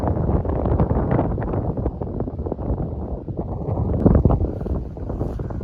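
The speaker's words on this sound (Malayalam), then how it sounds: "നല്ല കാറ്റുമുണ്ട് ഇവിടെ" Steady gusting wind on a hilltop among rocks buffets the microphone throughout, a continuous low roar with rumbling surges, loudest around the fourth second.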